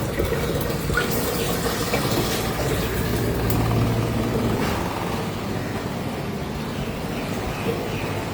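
Water runs steadily from a tap into pots, a continuous splashing fill with a low hum underneath and no talking.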